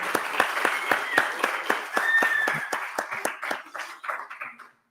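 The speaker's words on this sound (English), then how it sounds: "So please, a special applause for her." An auditorium audience at a Colombian brain health congress applauds the co-host on her birthday, with sharp distinct claps up close over a crowd of hands, swelling then tapering off before ending abruptly.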